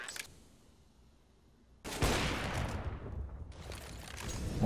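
Counter-Strike gunfire during a professional esports match, with a sudden loud burst of shots that keeps rattling on and builds, after a quieter stretch with a couple of faint earlier shots.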